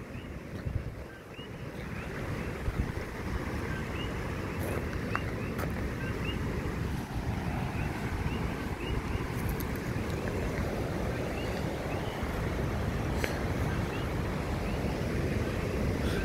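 At night on Richardson Beach in Hilo, Hawaii, the ocean surf keeps up a continuous loud wash and rumble, mixed with wind buffeting the microphone and faint chirping, with no voices.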